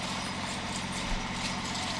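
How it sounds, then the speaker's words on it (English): Horse hooves clip-clop along the street in a Christmas parade in Kingston, a steady rhythm of hoof strikes heard amid outdoor crowd and engine murmur, moderately close. "Here's that beautiful black horse every year."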